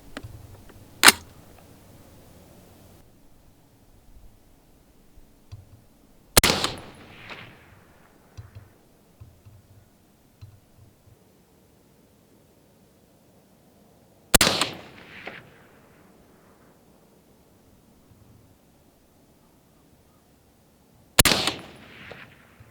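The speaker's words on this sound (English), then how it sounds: "this is the last 4 shots. Gun's all heated up" Four loud, sharp rifle shots from an AR-15 firing reloaded ammunition at a long-range target, spaced several seconds apart, each with a trailing echo over a quiet outdoor background.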